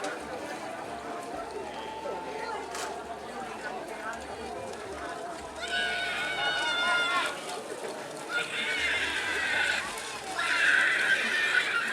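Racing bull pairs thunder along the track in a Karapan Sapi bull race, a rumble of running hooves rising under steady crowd chatter and a loudspeaker announcer.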